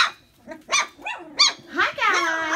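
Young Great Mountainees puppies bark and yip in short, high, close bursts that grow into overlapping squeals and whines toward the end.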